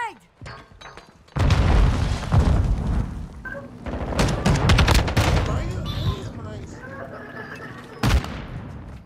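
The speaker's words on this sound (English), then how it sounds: "Throwing grenade!" A grenade blast amid gunfire in a Call of Duty match: a sudden loud boom erupts, then dense overlapping shots and rattling bursts follow, with a sharp crack near the end and voices faintly underneath.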